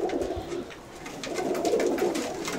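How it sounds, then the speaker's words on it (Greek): Pigeons coo steadily in a low, throaty murmur, several birds overlapping in soft repeated rolls at moderate distance, with faint background noise and no talking. "Ήτανε τρομερά περιστέρια"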